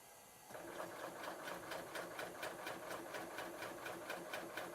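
A serger runs in cover chain stitch mode, starting abruptly and then holding a steady, fast mechanical whir with an even rhythmic needle pulse, close and continuous, without speech.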